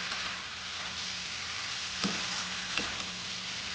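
Taro stolons and shrimp fry in a pan with a steady, soft hiss, close but fairly quiet, and two faint knocks of a utensil near the end, with no voices.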